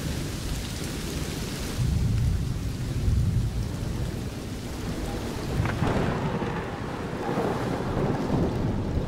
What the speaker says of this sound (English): Come on, it's just a little rain.